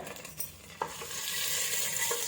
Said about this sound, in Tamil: தாளிப்புக்கு தேவையானது எல்லாத்தையும் எண்ணெய் வந்து கொதிச்சதுக்கப்புறம் போட்டுக்கோங்க. ஸோ போட்டுட்டு அதை லைட்டாக ஃப்ரை பண்ணிக்கோங்க